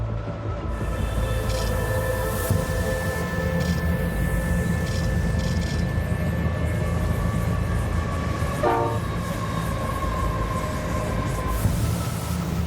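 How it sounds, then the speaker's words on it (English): Trains rumble steadily along Australian rail track, with sustained high metallic wheel squeal and a brief horn-like tone near the end as cars grind around a curved bend, loud and continuous throughout without talk. "You can hear the trains approaching. You know, the sound, it just travels through the rail as they squeal around the bend in the curves in the track."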